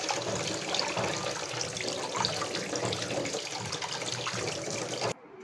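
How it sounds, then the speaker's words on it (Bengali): Elephant apple fruits are washed under running water from a tap into a sink, a steady splashing flow that continues throughout and cuts off near the end. "তো চালটাগুলো আমি এখানে ধুয়ে নিলাম।"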